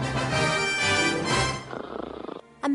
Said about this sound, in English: that's the sound of Cheap Cheap snoring